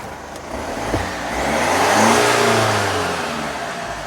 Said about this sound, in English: So as you can hear, the van is running